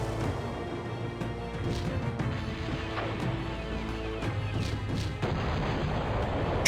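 Repeated booming cannon blasts fire at irregular intervals over a busy, noisy battle mix with a steady musical drone, from the strategy game Cossacks: European Wars.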